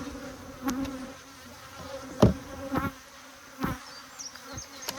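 Honeybees buzz steadily in the background, with a few sharper, louder passes rising and fading over several seconds.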